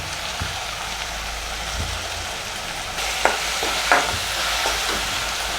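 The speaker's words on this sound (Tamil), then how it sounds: "இப்போ வெங்காயம் நல்லா வதங்கணும்." Onions sauté in a pan for prawn gravy with a steady sizzle. A few sharp stirring scrapes and clinks come through near the end, with no talking.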